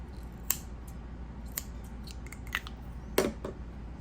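Scissors snip crochet yarn tails while assembling a bunny apron, several sharp close cuts spaced about a second apart over a quiet room hum, with no talking.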